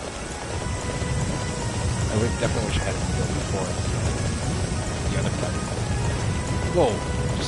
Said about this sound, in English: Just suddenly became raining.